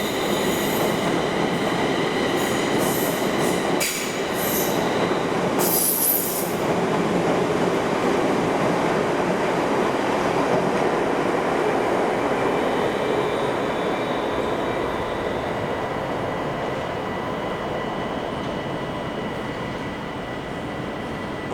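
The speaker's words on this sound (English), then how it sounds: "Looks like we got another London Overground service. It's coming on platform 9." A London Overground passenger train rolls steadily into London Euston station, its loud continuous rumble accompanied by brief high wheel squeals early on, gradually easing as it slows.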